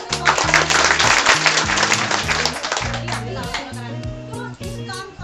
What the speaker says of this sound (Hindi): इस बात पे और जोर से ताली बजाइए।